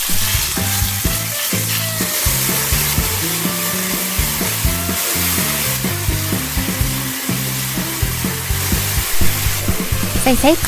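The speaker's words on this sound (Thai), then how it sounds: "ใส่ไก่สับ ผัดจนไก่สุกนะคะ" Ground chicken stir-fries in hot oil with garlic in a pan, giving a loud, steady sizzle through the whole stretch, with a utensil scraping and tapping the pan in an uneven rhythm.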